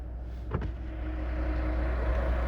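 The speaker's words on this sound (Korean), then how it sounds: "지금 밖에 트럭이 있어서 엔진 소리가 굉장히 큰데" A truck engine idles outside a Volvo XC90 T8 plug-in hybrid, a steady low drone with a brief thump near the start, heard alone from close by.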